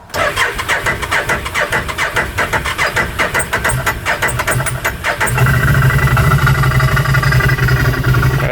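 A rough-running UTV engine cranks with a rapid, rhythmic starter chug for about five seconds, then catches and settles into a loud, steady idle close by; no talking.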